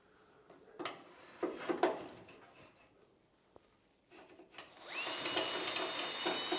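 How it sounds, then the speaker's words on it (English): Power drill working on a racevan build, a few short bursts with rattles and knocks at first, then a sustained high-pitched whine as the bit runs continuously through the hole, close and fairly quiet. "If it doesn't drill a hole, it'll hopefully beat one through."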